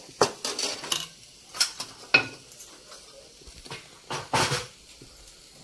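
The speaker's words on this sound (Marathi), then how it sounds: "इकडे मी तवा ठेवते" A tawa griddle set on a kitchen stove, with several sharp metallic clanks and scrapes in irregular bursts against quiet gaps.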